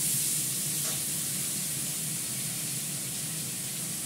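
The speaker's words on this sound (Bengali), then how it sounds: "দুটো কাঁচা লঙ্কা, আদা বাটা, মাছটাও দিয়ে দিলাম" Fish sizzling in hot oil with green chilies and ginger paste, a steady broad hiss that holds evenly from start to finish with no voices over it.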